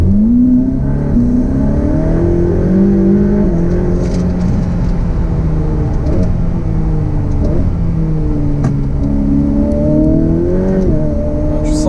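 A Ferrari F8 Spider accelerates hard, its engine note climbing and dropping through gear changes in a loud, close, continuous roar.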